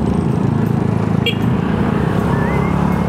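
Motor traffic rumbles steadily and loudly near the entrance of a pilgrimage church in Lucban, Quezon, with motorcycle engines droning close by the whole time and no clear talk.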